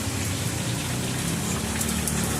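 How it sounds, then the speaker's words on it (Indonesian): Steady rain pours outside a quiet pecel lele and fried chicken street stall in Bintara, a dense continuous hiss with faint patter, no voices. "Ini sepi karena lagi hujan."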